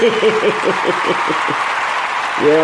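Applause sound effect of a crowd clapping and cheering, a short burst of steady clapping that fades out and then briefly swells again at the end, with a voice speaking over it.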